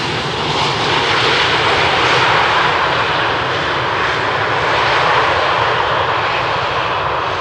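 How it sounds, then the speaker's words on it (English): An Air Malta Airbus on landing at Amsterdam Schiphol's runway 18R gives a steady, loud broadband jet roar that holds evenly throughout, close by, with no voices. "this Airbus from Air Malta already vacating the runway"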